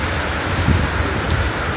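Rain falling on a rainy morning, a steady, close, even hiss of drops striking surfaces, loud and unbroken throughout.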